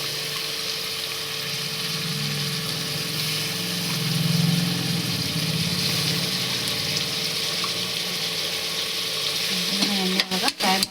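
Tomatoes frying in oil in a pan while cooking pulao: a steady, continuous sizzle with stirring noises, holding close and fairly loud throughout, swelling briefly midway and ending with a few sharper clatters.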